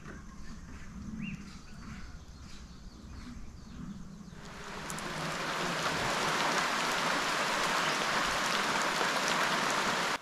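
Rain falls on a rural morning in Zimbabwe's Eastern Highlands, a soft steady patter that swells into a dense, loud hiss about halfway through, with faint birdsong early on.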